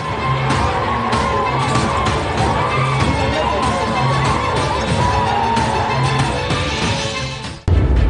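An angry crowd shouting outside a police station in Hyderabad, a loud continuous roar of many voices yelling and chanting together, close and dense.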